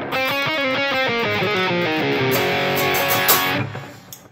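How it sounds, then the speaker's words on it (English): Electric guitar plays a quick hammer-on and pull-off lick, a rapid run of legato notes that fades out at the end, played alone and up close. "So what he plays there is a little hammer-on and pull-off lick."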